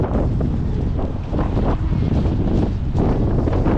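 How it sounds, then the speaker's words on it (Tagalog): Heavy wind buffets the microphone in a loud, constant roar with gusting swells. "Hangin."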